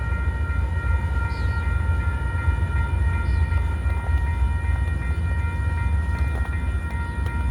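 A freight train backs slowly along the tracks at dusk, a low, continuous rumble and rolling drone that stays steady and fairly close throughout, with faint metallic ticks and no voices.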